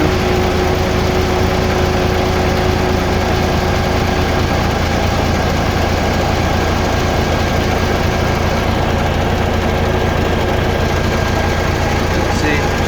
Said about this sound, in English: We're going to start the engine now,